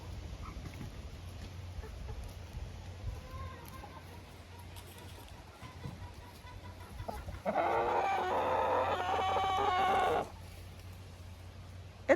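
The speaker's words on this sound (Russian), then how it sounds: "Это петух помесный с мараном и моей чубатой курицей." Marans crossbreed rooster crowing close by, a loud, sustained call lasting a few seconds against a quiet village yard backdrop.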